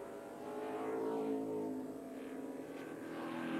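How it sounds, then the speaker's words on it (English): A race car circuits a track in Australia, its engine a steady harmonic drone that holds near and fairly loud for the whole stretch, with no voices over it. "the way the car's sitting on the circuit just looks beautiful"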